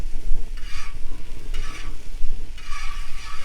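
Onions, shallots and tomatoes sauté in a pan while a spoon stirs them in repeated scraping sweeps over a loud, constant low sizzle; nobody talks.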